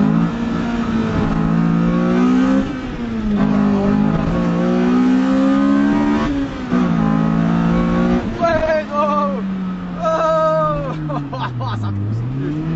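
A car engine revs and pulls hard through the gears, its drone rising and falling in sweeps, close and loud throughout with people talking over it.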